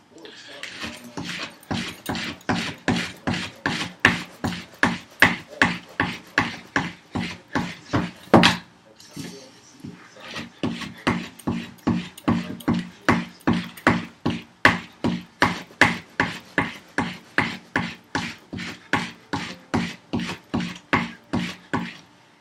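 A steel plane iron is sharpened by hand with steady back-and-forth rasping strokes, a long even rhythm of close scraping with a short pause midway.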